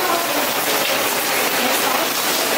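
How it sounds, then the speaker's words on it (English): Heavy rain pours down outdoors in a built-up city area, a dense, loud, continuous hiss and patter filling the scene without letup, no voices. "It is raining very, very hard."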